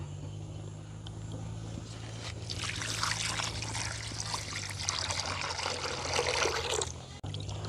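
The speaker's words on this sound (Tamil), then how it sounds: "இப்போ வந்து கழுவி எடுக்க போகிறோம்" Cut pieces of dried fish being washed in water outdoors in a village, with steady trickling and splashing that swells in the middle, over a constant low hum.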